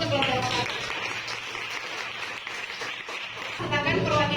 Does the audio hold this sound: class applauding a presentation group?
yes